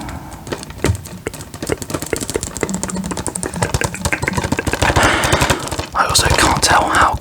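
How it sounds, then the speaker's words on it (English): Fingertip tapping for ASMR, a fast continuous stream of close, crisp taps with a faint rattle, steady throughout and alone. "Do some tapping."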